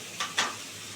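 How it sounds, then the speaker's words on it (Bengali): Potatoes fry in hot oil with turmeric, two short bursts of sizzling as they are stirred, followed by a fainter steady hiss. "এটাকে এবার সুন্দর করে বন্ধুরা ভাজতে হবে লাল করে আলুটা"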